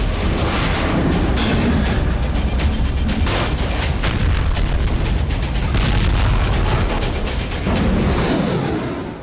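Heavy bombardment in Al Hudaydah, Yemen: a dense, continuous roar of blasts and rumbling booms with sharp cracks scattered throughout, loud and sustained without voices.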